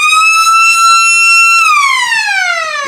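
Match siren at a rain-affected local Australian rules football game, one loud sustained electronic tone holding steady, then sliding downward as it winds down, near and prominent with no talk over it.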